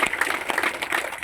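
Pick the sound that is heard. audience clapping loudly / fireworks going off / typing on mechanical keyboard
audience clapping loudly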